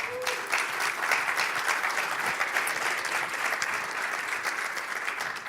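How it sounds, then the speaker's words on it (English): Audience at a PyCon Balkan conference session in Belgrade applauding a speaker, a steady burst of many hands clapping filling the room, moderately loud and sustained throughout. "So can we get a big round of applause for Duje?"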